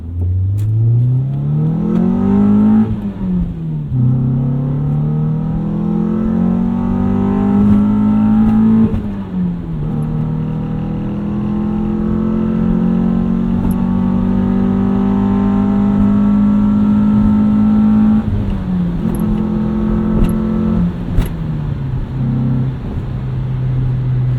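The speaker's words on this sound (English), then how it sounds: "I really do like the way this car sounds. It's the ideal B-Series 4-cylinder sound." A 2001 Honda CR-V with a manual gearbox and a B-series four-cylinder engine revs up and down in long loud sweeps, rising and falling several times close by, with no talking.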